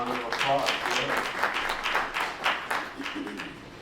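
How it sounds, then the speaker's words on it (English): An audience at a college event applauds a Gee's Bend quilter as she is welcomed, steady moderate clapping with some scattered individual claps and faint murmuring voices underneath. "Please give her a round of applause."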